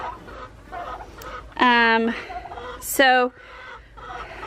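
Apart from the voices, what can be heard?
chickens clucking in a homestead coop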